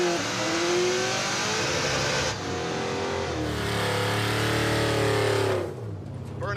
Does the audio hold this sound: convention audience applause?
no